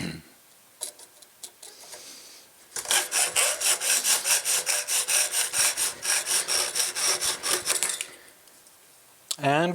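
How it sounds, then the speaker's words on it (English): A hacksaw cuts with rapid, even back-and-forth strokes, loud and close, for about five seconds after a few tentative scrapes, then the rasping stops. "And we're done with the hacksaw."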